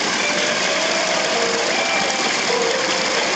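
A micro hydro generator runs with a continuous, even mechanical hum and faint whine, close and steady, with no voices.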